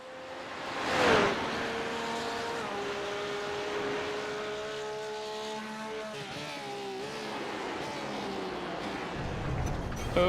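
Race car lapping the Nürburgring Nordschleife in a racing video game, a steady high engine whine rising and shifting through gears, loud and continuous with a faint tire rush.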